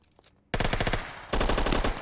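Another player opens fire in a video game, two long bursts of rapid automatic gunfire, close and loud, separated by a brief pause after a quiet start.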